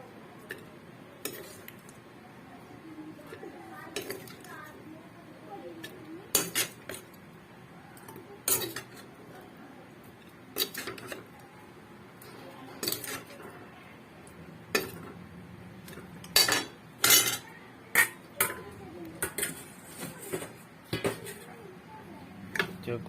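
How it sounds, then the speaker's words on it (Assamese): A pressure cooker and metal pots handled while cooking chicken: scattered sharp clanks and clinks of metal, some in quick clusters, over quiet kitchen background, with a person talking at times. "ফাৰ্ষ্টতে এটা প্ৰেছাৰ কুকাৰ লৈছোঁ।"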